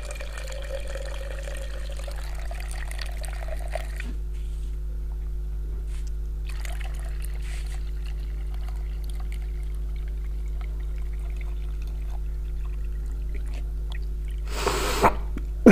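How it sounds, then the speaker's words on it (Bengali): Water is poured off soaked old mobile phone SIM and memory card parts during gold recovery, a soft, intermittent trickle over a steady electrical hum, with a brief louder splash near the end. "এগুলো আস্তে করে তুলে উপর থেকে পানিগুলো ঢেলে"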